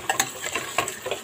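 Onions frying in oil for beef stew, a soft close sizzle broken by a few quick clicks and scrapes of a stirring spoon, with no talk.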